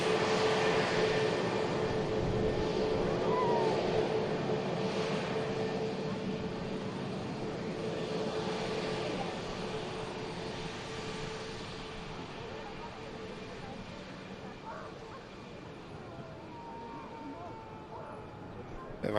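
Eight-year-old Aer Lingus ATR turboprop landing at Manchester Airport, a broad distant engine roar that slowly fades over about twenty seconds, with faint tonal whines drifting through, no speech.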